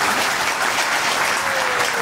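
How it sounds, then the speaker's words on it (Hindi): Loud, dense audience applause fills a Bhagwat katha gathering in Govindpuri, Delhi, a continuous crowd clapping that holds steady throughout. "आप लोगों के लिए जोरदार ताली बजा दो।"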